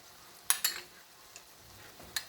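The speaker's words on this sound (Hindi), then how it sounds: "अब इस वक्त मैं इसमें 1 टेबलस्पून भर के इसमें योगर्ट का डाल रही हूँ।" Yogurt stirred into prawn karahi gravy sizzling in a pan, with a few soft scraping stir strokes and spoon clinks over a faint low sizzle, close and quiet.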